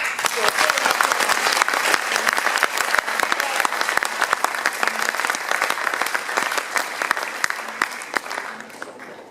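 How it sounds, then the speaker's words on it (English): A concert audience breaks into sustained, loud applause, with many hands clapping in a dense, even roar that holds throughout and thins only slightly toward the end. "Please give a round of applause for"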